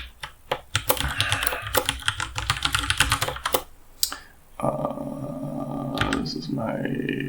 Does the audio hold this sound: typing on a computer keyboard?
yes